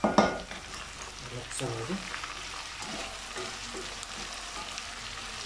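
Bitter gourd and potato fry steadily in a pan, seasoned with salt and turmeric. A sharp burst of sizzling at the start settles into an even, moderate crackle, with a few stirring scrapes.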